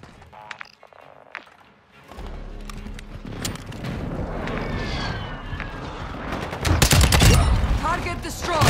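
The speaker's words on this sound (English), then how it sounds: "Enemy precision airstrike." Enemy precision airstrike in a combat video game: after a quiet start, a roaring rumble builds, followed by a dense burst of loud crackling blasts and rapid gunfire, with a voice briefly heard.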